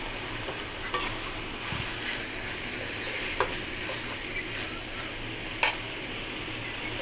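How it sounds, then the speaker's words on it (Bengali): Malabar spinach (pui shak) frying in a pan, giving a steady, close sizzle with faint stirring and a few sharp clicks of a utensil against the pan, and no talk. "আমার পুঁইশাক ভাজি করতেছি।"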